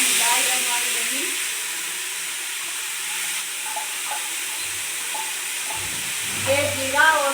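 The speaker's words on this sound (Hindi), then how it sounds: "तेल गरम हो चुका है, सबसे पहले चिकन इसमें फ्राई कर देती हूँ मैं अच्छे से।" Chicken frying in hot oil: a steady broad sizzle and hiss that fades slightly after the start, with soft stirring knocks and someone talking faintly in the later part.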